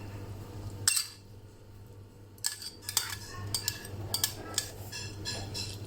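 Utensils clink against a bowl while soy milk broth and noodles for tan tan ramen are mixed, with several sharp scraping knocks spaced over a low steady hum, close by.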